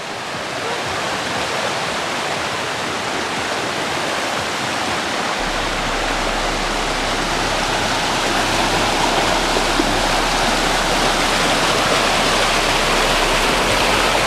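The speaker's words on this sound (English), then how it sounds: "It sounds like a lot of water, doesn't it?" River running high with spring water over rocks in wild parkland, a broad, steady roar of rushing water, loud and continuous with no breaks.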